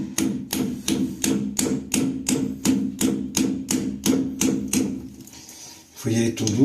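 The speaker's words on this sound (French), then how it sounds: "il faut prendre un petit marteau" Small hammer gently tapping a plug into place while fitting a Selles toilet seat: a long run of about fourteen crisp, evenly spaced taps, close and moderately loud, then a short pause and a few more knocks.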